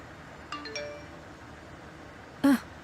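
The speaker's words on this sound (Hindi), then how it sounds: "ज़ैनब का मैसेज है" A phone gives a message notification tone: soft chiming pings, then a louder, brighter ding near the end, all fairly close over a quiet room with no talk.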